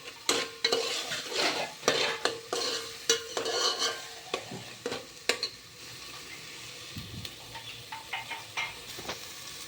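Rajma masala fries in a pan, South Indian style, while a spoon stirs briskly with loud close scrapes and knocks against the metal over a steady sizzle, the stirring easing off into quieter frying with no talk.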